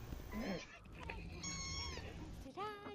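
A one-month-old kitten meowing in a tiny, high voice, several short cries near and fairly clear, over steady background noise and game sounds.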